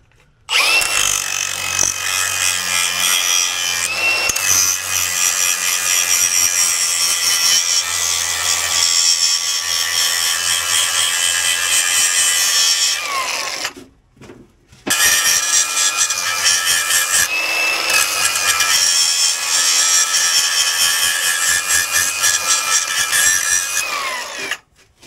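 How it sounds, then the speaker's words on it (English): An angle grinder fitted with a sanding disc works metal on a Kenworth W900L truck axle, a loud, continuous whirring grind for long stretches, with a short pause around the middle before it starts again. "this is a sanding disc, not a grinding disc."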